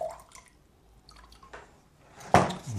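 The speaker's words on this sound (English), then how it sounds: "I'm just squeezing the water out of it." Water wrung from a wet watercolour brush, a few soft drips and squishes followed by a louder, close wet squeeze near the end.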